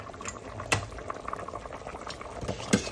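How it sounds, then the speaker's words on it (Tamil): A pot of seela fish curry bubbles on the stove, its soft continuous boil punctuated by a couple of louder liquid pops and splashes. Close and moderately quiet, without any talking. "மீன் குழம்பு கொதிச்சிட்டதை நான் வைக்க போகிறேன்னு."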